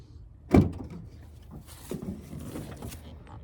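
A Honda Element car door is swung open and shut during fender repair, with a sharp thump followed by lighter clunks and rattles close by.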